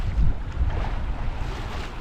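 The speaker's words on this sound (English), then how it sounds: "I did not think I'd be under sail at all today," Sailboat under sail in gusty wind on Lake Ontario, with heavy low wind buffeting on the microphone and rushing water along the hull, loud and continuous.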